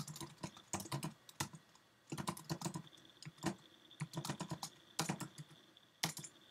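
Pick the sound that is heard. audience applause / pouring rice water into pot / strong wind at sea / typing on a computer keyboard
typing on a computer keyboard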